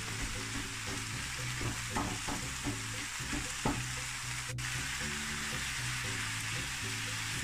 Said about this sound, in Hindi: अब इसको मार मार के जितना तोड़ सकते हैं, मैं अपना पैन खराब नहीं करूंगी।